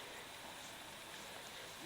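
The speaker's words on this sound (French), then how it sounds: "Il pleut!" Rain falling, a steady dense hiss of drops that stays even and unbroken throughout, fairly close with no other distinct sounds.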